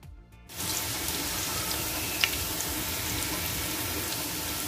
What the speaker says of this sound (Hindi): हम शामिल करेंगे पोटैटो आलू, इनको भी हम फ्राई कर लेंगे।